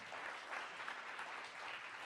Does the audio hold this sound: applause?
yes